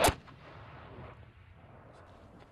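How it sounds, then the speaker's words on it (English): A military rocket launched toward the plains around Mosul during the offensive to retake the city: one sharp, loud blast at the start, then a long, fading rumble. "That was one of the rockets heading out down towards into the plains around the city of Mosul."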